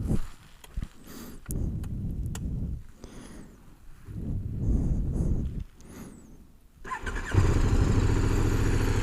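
A KTM 1050 Adventure motorcycle is repeatedly cranked with short whirring starter bursts and clicks before the engine catches and settles into a close, steady idle for the last couple of seconds.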